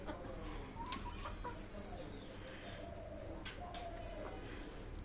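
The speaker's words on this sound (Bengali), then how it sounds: "কিভাবে কাড়াকাড়ি করছে মুরগিগুলো" Chickens jostle over scattered mango peels, giving scattered clucks and short squawks over a steady outdoor background hum, with faint voices nearby.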